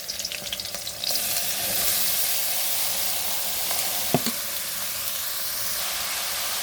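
Water spinach (kolmi shak) dropped into a hot pan over a high gas flame gives a loud, steady sizzle that surges after the first second and carries on, with brief stirring clatters and no talking.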